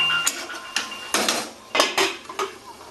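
A metal lid is set onto a cooking pot of Bengali-style bottle gourd and prawn curry, giving several sharp metallic clanks and rattles in quick succession, close and clear with no talk.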